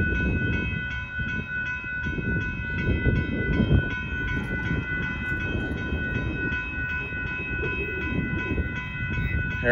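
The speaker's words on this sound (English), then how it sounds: "Now Amtrak's gonna be passing us now." An Amtrak passenger train rolls past nearby in Texas, a steady loud rumble of wheels and cars with faint tonal horn or whistle bands running throughout, no voices.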